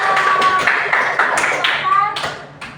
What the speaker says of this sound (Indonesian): Kita kasih aplaus dulu untuk kelompok kita